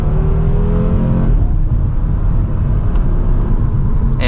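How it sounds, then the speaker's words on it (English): A 2024 Audi RS3 with sport exhaust pulls away under mild acceleration in its performance setting, a loud, steady engine rumble with a rising drone, heard from inside the car with no one talking. "It gives you that sport exhaust sound that you would want"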